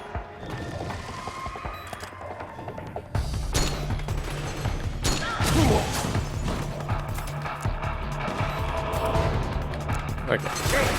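Semi-automatic gunfire in Metal Gear Solid 4 cracks out as scattered sharp shots and impacts over a dense background of game noise, irregularly spaced and fairly loud, with a player talking intermittently.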